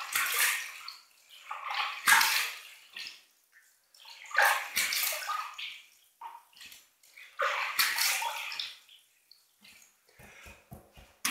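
Running water rinses a Vikings Blade razor during a wet shave, heard as repeated bursts of splashing and swishing with short quiet gaps between them, close and fairly loud, with no talking.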